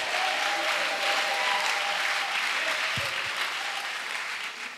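Congregation at a national missionary retreat in Côte d'Ivoire applauding, a dense continuous wash of clapping that fades slightly toward the end.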